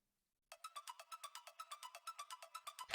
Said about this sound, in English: The other thing playing here is this ARP.